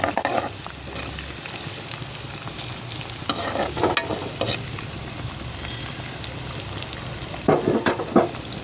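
Onion and garlic frying in oil in a pan for a spicy tamarind curry with taro root, with a continuous close sizzle and bursts of scraping as it is stirred. No one speaks.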